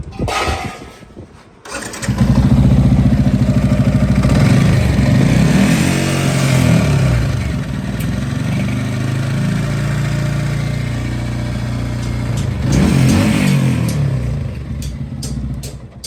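After a brief quiet start, a Yamaha R15 V3 motorcycle that sat under water for ten days starts up and runs nearby, its engine revving up, settling into a steady idle, then revving again.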